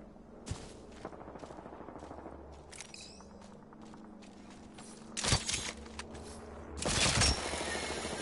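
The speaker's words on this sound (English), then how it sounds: "I am taking fire" Gunfire in the Apex Legends video game: scattered single shots and clicks at first, then two loud, close bursts of rapid fire near the end.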